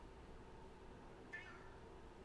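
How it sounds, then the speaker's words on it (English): A cat gives one short, faint meow partway through, heard alone over a steady low electrical hum. "Meow."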